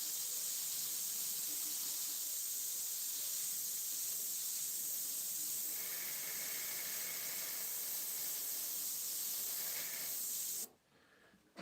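An airbrush sprays paint in a steady close hiss that runs without a break for about ten seconds, then cuts off abruptly into quiet.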